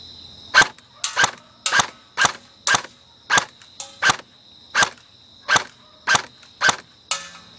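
A BB gun fires about a dozen sharp, loud shots at a target 75 feet away, each crack evenly spaced roughly half a second apart against a steady background hiss, with no voices.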